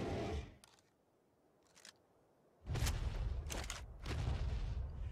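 Shots fired at a creature in ARK Ragnarok on Xbox One, a few loud booming blasts with broad rumbling tails separated by quieter gaps, the later ones running together into sustained noise.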